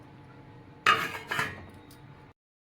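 A metal lid clanks onto a pot of drumstick curry, a sharp clatter followed by a second lighter knock and a brief rattle, then quiet simmering before the sound cuts off.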